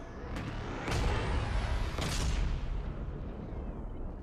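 In the video game Mass Effect 3, missiles launch and strike as two heavy booming blasts with rushing roars that fade into a long rumbling tail, loud and close.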